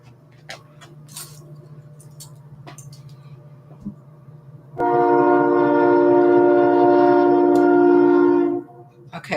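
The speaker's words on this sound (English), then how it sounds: "I think the train is saying yes" A passing train rumbles steadily, then a loud, sustained multi-tone horn blares for about four seconds before cutting off, with some faint clicks and background noise around it.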